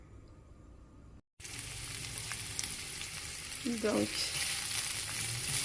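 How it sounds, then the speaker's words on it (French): Red or green pepper strips sizzle and fry steadily in a pan, a close, continuous crackle that grows slightly louder toward the end, with a brief silent gap early and one short spoken word. "on les fait revenir, on les fait caraméliser comme les oignons."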